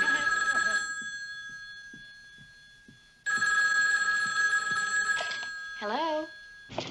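Sitcom-era telephone bell ringing in a phone booth, sounding in loud repeated bursts separated by brief gaps, with people talking before and around the rings.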